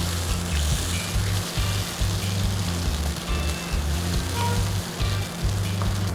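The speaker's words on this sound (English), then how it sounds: "we're gonna pour in our coconut milk next" Coconut milk poured into a hot pan on a stovetop as the base for Bicol laing, giving a steady, loud sizzle and liquid hiss that runs continuously throughout with no speech.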